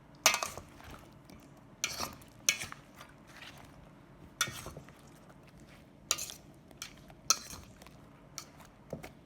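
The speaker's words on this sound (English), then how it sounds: "I'm just gonna take my fork and mix them all in." A fork clinks and scrapes against the inside of an enameled cast-iron French oven while stirring fried yellow squash, with sharp metallic taps spaced every second or so over a quiet, close background.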